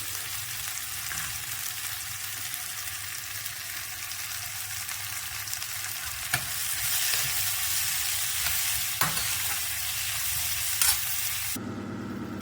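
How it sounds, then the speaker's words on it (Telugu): Spices and coriander for an egg curry sizzle steadily in a hot pan, with a constant close frying hiss broken by a few soft scrapes of stirring. "ఇప్పుడు వీటన్నింటినీ బాగా ఫ్రై చేసుకుందాం."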